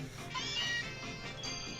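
Meowth, the coin-headed cat Pokémon, gives a short electronic meow in the Pokémon Sun video game, a bright, tonal cry heard close and alone for under two seconds.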